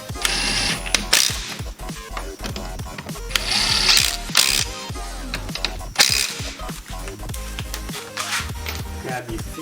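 A power tool rattles and buzzes continuously while tightening brake caliper bolts on a Ford AU Falcon during a big brake kit install, loud and close with mechanical clatter throughout.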